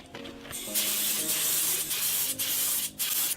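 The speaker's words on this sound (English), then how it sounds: "And spraying it up now." Finish being sprayed onto a wooden jewelry box made from random timber pieces, a loud, close hiss in sustained bursts with short pauses between passes.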